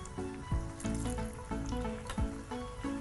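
Curry leaves frying in hot oil give a steady, close sizzle with some crackle, and faint tonal sounds run underneath.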